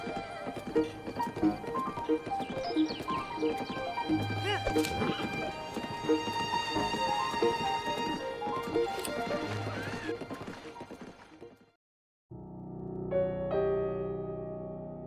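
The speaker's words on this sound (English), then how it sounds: "riding a horse through the remnants of Hyrule" In the Breath of the Wild video game, a horse gallops with rhythmic clip-clop hoofbeats and whinnies over steady game music, and a narrator talks throughout before a brief silence.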